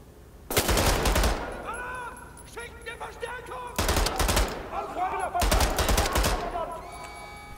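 Gunfire in the video game Wolfenstein: The New Order, heard as three loud bursts of rapid automatic shots, each about a second long, with shell clinks, ringing and game sounds between them.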